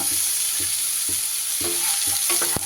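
Cut potatoes sizzle steadily in hot oil with a broad hiss, while a spoon or spatula scrapes and stirs the pan in regular strokes; no voices are heard.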